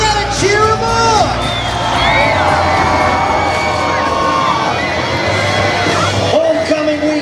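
A monster truck show crowd cheers, whoops and yells loudly and continuously, with children shouting and a low engine rumble underneath through most of the stretch.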